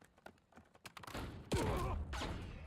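Black Ops 7 gunfire: a spatter of sharp shots builds into a loud, close sniper crack with a falling whine, followed by another burst of echoing fire.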